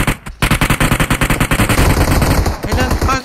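Rapid automatic gunfire in PUBG Mobile rattles loud and close in a long continuous burst with evenly spaced shots, a brief gap near the start.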